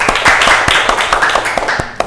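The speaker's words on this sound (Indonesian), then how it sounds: "tepuk tangan dulu." A classroom audience claps during a microteaching lesson, a burst of dense, overlapping hand claps running steadily for about two seconds, close and fairly loud with a few sharper claps standing out near the end.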